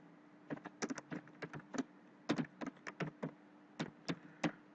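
Keys clatter on a computer keyboard in quick, irregular bursts of taps during data entry into a Microsoft Access form, close and moderately loud with no talking.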